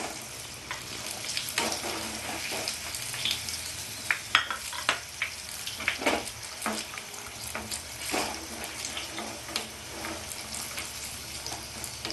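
Steady oil sizzle with irregular scraping and clinking as bean pakoras are stirred while frying in a pan, continuous and close.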